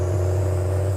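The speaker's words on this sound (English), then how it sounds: "I love the sounds with that straight pipe" A Mack RD600 truck engine with straight pipe exhaust holds a steady, deep droning idle with a strong low hum, close and alone.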